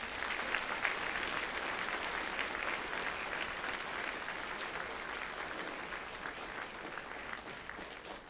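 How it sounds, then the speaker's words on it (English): A crowd of students and guests at a school Veterans Day assembly applauds veterans, a continuous, moderately loud roll of clapping that fades slightly toward the end. "please join me in honoring these veterans for their service with a round of applause"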